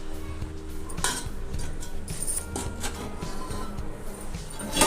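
A metal plate of tutti frutti biscuits is lowered into a preheated covered pot, with repeated metallic clinks, scrapes and clattering of lid and stand at close range, no voices.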